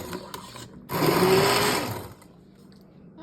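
An immersion blender whirs through a pot of cooked homemade salsa in a short, steady burst at close range, then stops.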